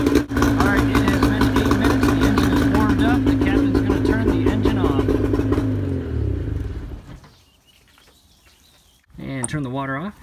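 An outboard boat engine runs steadily on water supply to warm up, a loud continuous drone for about six seconds before it winds down and fades, followed by a short burst of other sound.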